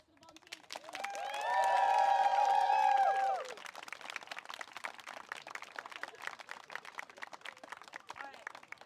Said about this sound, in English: So big round of applause for the volunteers.